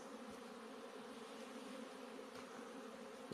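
Honeybees in flight on a winter cleansing flight, a steady dense buzzing hum of many insects filling the air throughout, fairly faint, with no talking.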